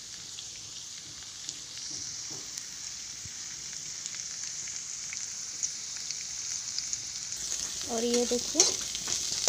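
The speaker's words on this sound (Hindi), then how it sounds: "हल्का हल्का फ्राई हो रहा है अभी" Beans fry gently in a pan, a faint, steady sizzle with light crackles, a voice speaking briefly near the end.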